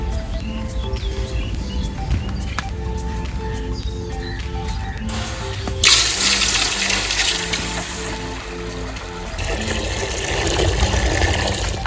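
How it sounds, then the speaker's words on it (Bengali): Water pours into a cooking pot set on the stove to make rice in a village kitchen, a steady close gushing and splashing that swells louder partway through and runs continuously without speech. "জল ঢেলে নিচ্ছি।"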